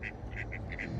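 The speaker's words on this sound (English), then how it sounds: "some ducks trying to steal my beer." Ducks give a run of six quick nasal quacks close by, one after another, over a steady rumble of outdoor wind or traffic noise.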